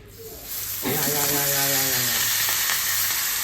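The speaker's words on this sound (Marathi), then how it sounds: "तेलात टाकल्यानंतर जो आवाज येते ना सरगुटा फ्राय करताना तो एक नंबर असतो" Pomfret (sargut) frying in hot oil gives a loud, steady, close sizzle that starts abruptly and holds throughout, while a voice talks briefly over it.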